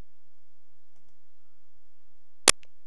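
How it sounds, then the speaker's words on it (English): A single sharp computer mouse click sounds once near the end, close and brief, after near silence. "Now, click on Options."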